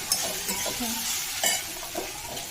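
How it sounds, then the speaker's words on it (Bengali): Okra tossed with poppy seeds is stirred in a frying pan, with a steady sizzle and scraping strokes of a spatula close by, no talk. "বেশ খানিকটা পোস্ত ছড়িয়ে নিয়েছি, আবার এটাকে আমি ভাজবো।"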